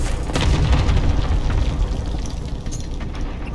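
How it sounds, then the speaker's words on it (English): A volley of cluster strike explosions in Call of Duty rumbles in a dense, continuous barrage of deep booms, loud and close, with scattered crackling impacts layered on top and no talk. "Allied cluster strike inbound."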